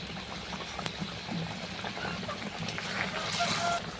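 Rohu fish curry bubbling in a pan, a steady low simmering hiss with faint popping, close and moderately quiet throughout.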